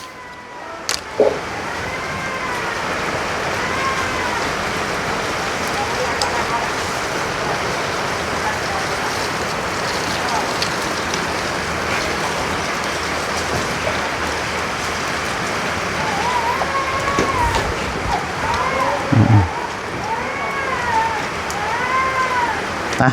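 Steady rain falls outdoors in a continuous soft hiss of drops on surfaces, with faint voices and brief bumps now and then.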